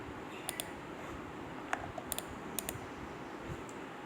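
Computer keyboard keys being typed to enter commands while making a building elevation drawing, a few sparse clicks at a steady pace over a quiet room hum.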